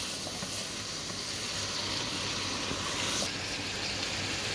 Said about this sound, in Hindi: इसको इतना हम लोग ज़रा थोड़ा सा भून लेंगे कि हमारे टमाटर थोड़े से सॉफ्ट हो जाएं